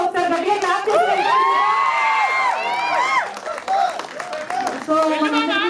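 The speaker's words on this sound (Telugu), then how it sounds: "ఒకసారి గట్టిగా క్లాప్ చేయండి" Audience members at a movie pre-release event cheer, shout and clap loudly in a continuous crowd roar that runs under and around raised voices throughout.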